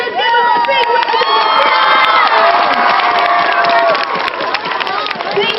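Elementary school children at a testing assembly cheering, shouting and clapping loudly, an energetic crowd din with high voices whooping throughout.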